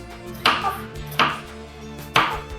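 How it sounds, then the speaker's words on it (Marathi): Three evenly spaced, crisp knife strokes cut through peeled, firm raw mango on a cutting board, each landing with a close, clear chop and a brief settling sound after it. "आता त्याचे छोटे छोटे तुकडे करून घ्यायचे."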